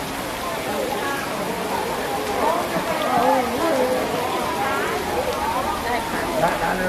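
Heavy rain falls over flooded ground in Thailand, a steady broad hiss of rain and running water beneath a voice talking.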